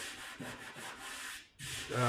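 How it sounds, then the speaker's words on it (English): Sanding on a boat hull where epoxy fairing compound meets wood, a steady rasping rub in repeated back-and-forth strokes, close and fairly loud, with no talking. "if you're sanding between the two of them, sometimes this wood"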